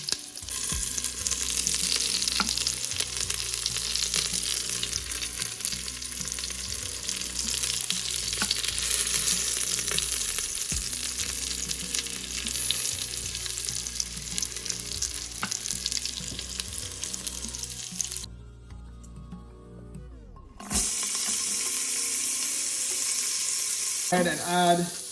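Beef chunks sear in bacon fat inside an Instant Pot, a steady crackling sizzle with occasional stirring and scraping, one brief lull before the frying resumes.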